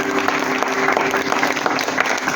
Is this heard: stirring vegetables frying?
no